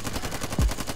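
Rapid machine-gun fire crackles in a quick burst during a Warzone match, with dense repeated shots close and loud across a single second.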